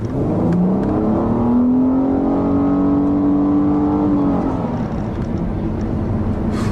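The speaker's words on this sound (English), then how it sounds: "that V6 engine, you can expect really brisk acceleration" A 2015 Nissan Altima 3.5 SL V6 engine revs up smoothly, its pitch rising steadily for several seconds before easing off, loud and close with no talking.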